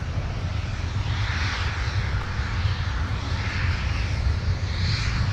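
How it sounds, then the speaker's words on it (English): A Sun Country airliner touching down on runway 12 right at Minneapolis–Saint Paul airport, heard as a steady, broad jet-engine roar at moderate distance. "let's take another look at Sun Country 656 touching down"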